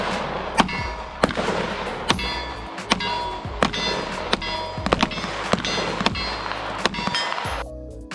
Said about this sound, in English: I got the privilege of shooting this gun